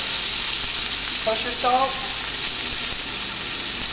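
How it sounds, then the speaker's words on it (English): Blanched green beans sizzle and fry steadily in olive oil with garlic in a pan, a continuous close hiss throughout, with a brief spoken phrase over it. "Add my beans to my olive oil and garlic,"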